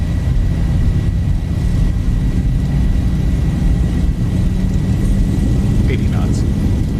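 A Zibo Boeing 737 in X-Plane 11 rolls down the runway for takeoff from Gatwick, its engines a loud, constant broadband roar with no breaks.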